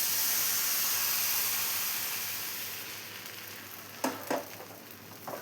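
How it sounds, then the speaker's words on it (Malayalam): Ragi appam batter hitting a hot appam pan, a strong steamy hiss that slowly fades over several seconds, followed by a few close, brief scraping and clattering sounds as the pan is swirled. "ഇപ്പോൾ ഒരു അപ്പം പാൻ വെച്ചിട്ടുണ്ട്. ഇതിലോട്ട് നമുക്ക് ബാറ്റർ ഒഴിച്ചു കൊടുക്കാം."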